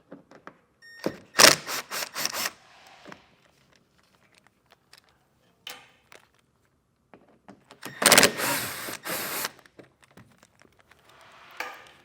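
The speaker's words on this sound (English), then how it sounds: "you're going to have a total of 4 T15 screws. So we'll work our way down and get all of them removed." T15 screws being removed from the wheel well liner of a 2021 Buick Enclave with a power driver, two short close whirring bursts separated by quiet handling clicks.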